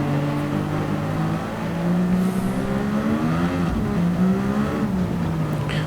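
A Formula One style race car in Gran Turismo 7, heard from a low cockpit view with other cars throwing spray; a sustained high engine whine that rises and dips with gear changes, loud and continuous with no talk.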